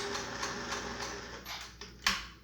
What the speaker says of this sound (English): And sew down to the edge.